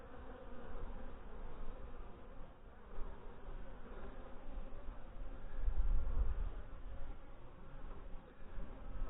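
Honey bees buzz around an open beehive that is trying to swarm, a close, continuous low drone of many insects that swells briefly midway, with no voices over it.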